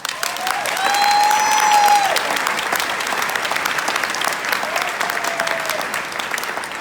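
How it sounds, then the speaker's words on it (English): Sustained applause from an audience at a charity speech event, a dense steady wash of clapping lasting several seconds, with a faint tonal squeal weaving through early on. "Clap for that."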